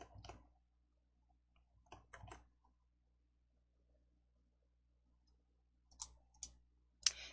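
Faint, sparse clicks from a computer mouse, scattered across otherwise near-silent stretches, with a few sharper single and double clicks toward the end.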